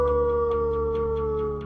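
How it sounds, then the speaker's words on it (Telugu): A dog howls in one long, steady, sustained wail that holds a clear pitch throughout, loud and close, with no voices over it. "జానీ అంటే కుక్క"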